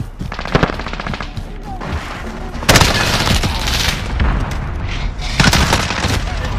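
Bursts of rapid automatic gunfire and sharp single shots in Modern Warfare's Shoot House, loud and close, coming in several clusters with brief lulls and booming impacts between.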